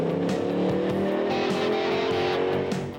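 A custom car's engine, an LT5 fitted with a custom stainless steel exhaust and catalytic converters, roars loudly and steadily for a few seconds, with surging revs and no talk.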